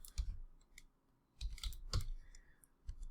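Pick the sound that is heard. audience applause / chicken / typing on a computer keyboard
typing on a computer keyboard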